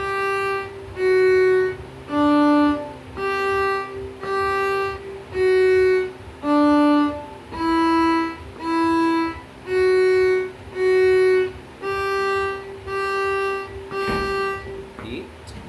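A violin bowed through a short beginner book exercise, with clear sustained notes in a steady rhythm, each held and then briefly separated, played close and at a moderate level with no talking.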